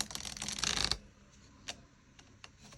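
Tarot cards are shuffled in a quick burst of riffling and flicking for about a second, followed by a few faint isolated card taps in a quiet room.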